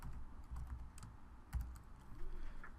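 Keystrokes on a computer keyboard, typed in a few short quiet bursts against a low background hum.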